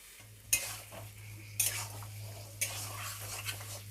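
Potato curry with ghee and garam masala being stirred in a pan, three sharp scraping strokes over a steady low hum and soft background rattle, fairly close, with no talking.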